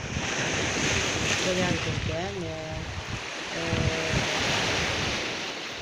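Sea waves wash steadily against the shore, with constant wind buffeting the microphone. People talk in the middle of the stretch of surf.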